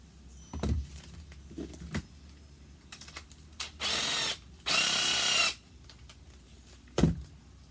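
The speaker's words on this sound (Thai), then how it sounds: "เราขันน็อตตัวนี้ออกก่อน" A cordless drill is run in short bursts while taking the nut out from inside its broken chuck, two steady whirring runs of about a second each, with clicks and taps from handling in between.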